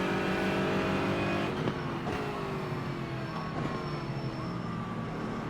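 Several GT4 race cars lap Zandvoort in iRacing, their engines droning in layered tones that repeatedly sweep downward under braking and downshifts. The sound stays steady and fairly loud, with no talk.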